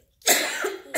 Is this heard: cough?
yes